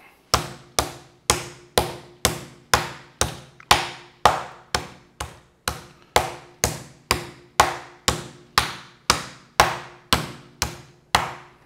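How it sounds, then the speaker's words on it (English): A meat hammer pounds pork tenderloin in a kitchen with a steady rhythm of about two sharp, close thuds per second, each ringing briefly, repeated over twenty times with no talking. "I think I want to get a different kind of meat hammer that has bigger points."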